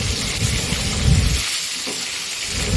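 Fish heads fry in hot oil in a wok with cumin seeds, dried red chilies and bay leaves, producing a loud, steady sizzle and crackle that lasts throughout, with some bubbling at the low end and no talking.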